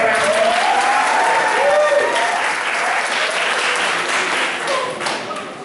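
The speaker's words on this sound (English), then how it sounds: "so let's give them a round of applause." Audience applause for kindergarten graduates at a school graduation ceremony, a loud sustained clapping from a crowd with some voices mixed in, tapering slightly toward the end.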